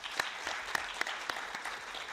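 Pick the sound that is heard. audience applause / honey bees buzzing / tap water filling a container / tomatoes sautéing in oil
audience applause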